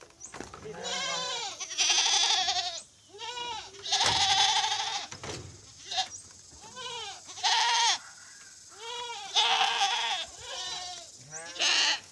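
Goats bleat over and over, loud, close calls overlapping in quick succession with wavering, nasal cries throughout, with no talking.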